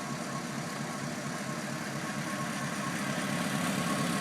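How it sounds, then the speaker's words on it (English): A 1941 Cadillac Series 62 sedan, model 6219, idles just after start-up with its radiator shutters closed, a steady, even engine hum held at a low level throughout, with no voices. "The engine's just been started up."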